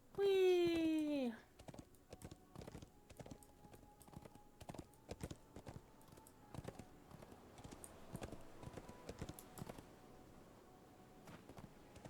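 Clip-clopping hooves of a summoned horse in a fantasy video game, a steady light clatter of hoof taps after an opening burst of loud voice, continuing under faint background talk.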